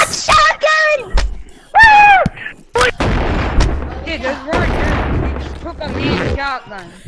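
Shotguns fire in the video game Animal Company, a few loud, abrupt blasts mixed in among excited overlapping voices of players talking.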